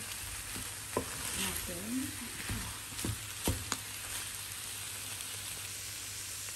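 Stir-fry chicken with mushroom and bamboo shoot sizzles steadily in a pan while a utensil clacks and scrapes in several sharp stirs, with a brief spoken word.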